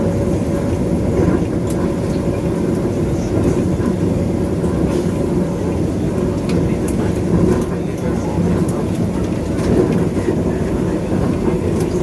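Riding aboard the Vande Bharat Express from Bangalore to Chennai, a steady rumbling cabin drone of train motion with faint rail clatter continues throughout at a constant level.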